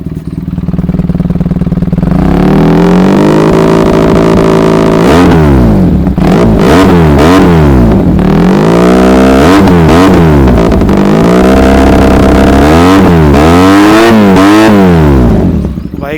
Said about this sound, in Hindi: जो बाइक का साउंड था भाई काफ़ी अच्छा है